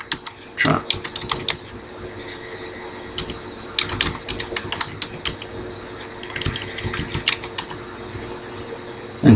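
Irregular bursts of computer keyboard typing as a file name is entered, clicky keystrokes arriving in quick clusters with pauses between, close and fairly quiet over a low steady hum.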